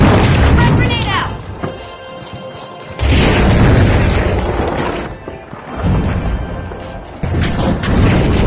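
A frag grenade blast in the game The Finals booms and crashes loudly at about three seconds, followed by more heavy impacts and clattering debris amid the busy, loud noise of combat.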